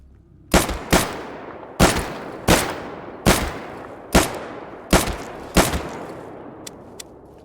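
Gunfire in S.T.A.L.K.E.R. Gamma: eight loud, separate shots spaced roughly a second apart, each a sharp crack trailing into a long echoing decay, with no talk over them.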